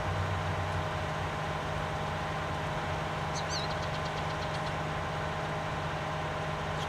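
A tractor engine in the Farming Simulator 19 video game hums steadily at low volume, a continuous droning idle with a faint high chirping passing briefly midway.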